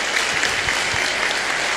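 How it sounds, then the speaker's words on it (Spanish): A congregation in church breaks into strong applause, a brief, uniform burst of many hands clapping with no talking. "Un fuerte aplauso para ellos"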